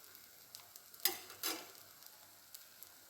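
Food fries on a large tawa griddle, a quiet sizzle broken by a few sharp crackling pops, faint and close with no voices.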